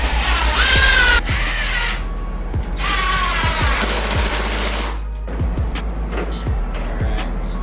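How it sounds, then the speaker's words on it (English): A power driver runs screws fitted with washers into a foam form for an epoxy drip table, with several loud whirring bursts of the motor separated by short pauses and no talking. "I'm screwing them all to each other, and then I'm using like a washer on a longer screw to hold that pressure into that foam"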